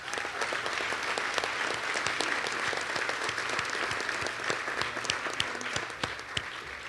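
Sustained audience applause at an employee recognition and leadership awards ceremony, a dense steady clapping from a large crowd filling the whole stretch with no speech over it.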